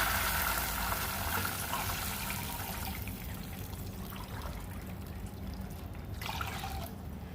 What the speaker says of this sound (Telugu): ఒక గ్లాసు బియ్యం కదా, 3 గ్లాసెస్ వాటర్ పోస్తున్నాను నేను.